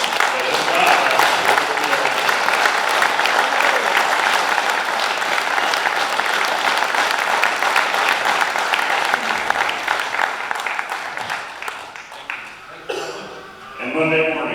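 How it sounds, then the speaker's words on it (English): Loud, sustained applause from a large crowd at a racing club's awards banquet fills most of the stretch, then thins into scattered claps and a few voices near the end. "we need to give Phil a big round of applause"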